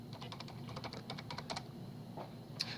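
Rapid keystrokes on a computer keyboard as HTML5 semantic element terms are entered, arriving in quick clustered bursts with a brief pause near the end, moderately close and alone without speech.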